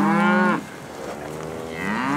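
Second-calver beef cows bred back Charolais low in loud, drawn-out moos at close range, one call overlapping another with no talking.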